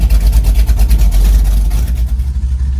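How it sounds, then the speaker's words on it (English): A car engine running with no exhaust fitted, only header extensions, gives a loud, deep, lumpy idle with rhythmic pulsing throb, close and raw. "this car has no exhaust on it"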